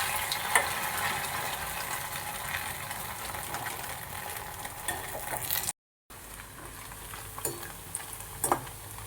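Steady, dense crackling sizzle of food frying in hot oil, continuous throughout with a brief cut near the middle.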